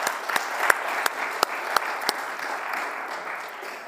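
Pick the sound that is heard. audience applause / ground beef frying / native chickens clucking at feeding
audience applause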